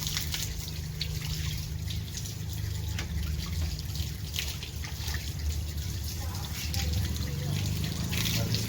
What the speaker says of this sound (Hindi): दायां पाँव 3 मरतबा धोना है